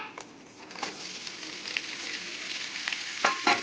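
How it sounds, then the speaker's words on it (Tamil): Onions dropped into hot coconut oil in a pan on medium heat, a soft continuous sizzle with scattered pops and stirring scrapes, close and moderately quiet. "நான் வெங்காயத்தை ஆட் பண்ணுறேன்."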